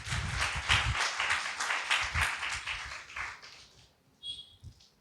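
A church congregation claps together during a Sunday service, a dense, lively burst of applause lasting a few seconds before thinning out, with a couple of faint scattered sounds at the end.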